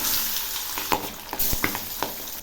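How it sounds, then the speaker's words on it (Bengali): Singhi fish pieces sizzle in hot salted mustard oil in a pan, a steady close crackle broken by a few sharp spits and stirring clinks, with no voices. "এখন আমি মাছগুলো ছেড়ে দিচ্ছি।"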